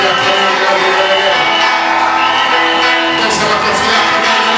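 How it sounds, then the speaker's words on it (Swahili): Church congregation at a Sunday service clapping and ululating together, a dense, continuous wall of crowd noise with shrill, wavering trills riding over steady applause. "Ongeza makofi yako mengi na vigelegele."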